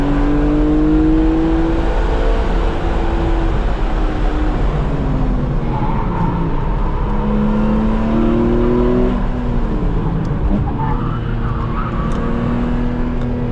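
A BMW E46 M3 with SMG gearbox drones steadily and loudly at high revs on a racetrack, pitch shifting as it accelerates and shifts, with wind and road noise throughout.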